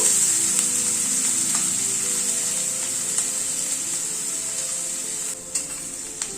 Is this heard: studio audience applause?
no